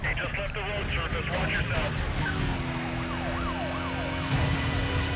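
Police car sirens in Need for Speed Most Wanted, several wailing and yelping tones rising and falling together over a loud racing car engine, with someone talking over the chase.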